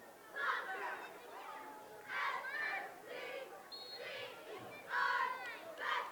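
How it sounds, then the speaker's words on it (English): Bethel Park cheerleaders chant in repeated bursts at a boys' high school soccer game, a group of distant voices rising and falling several times, with nearby commentary talk in between. "I'm pretty sure that was the worst cheer I've ever heard in my life"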